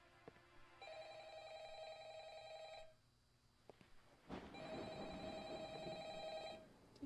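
A telephone rings in the horror video game Employee Of The Month, a steady electronic ringing that plays in two clear bursts separated by a short pause, loud and alone with no talking.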